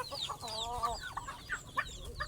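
Hen with chicks on a small farm breeding flock, clucking and peeping calls close by over a low background, irregular short calls without talk.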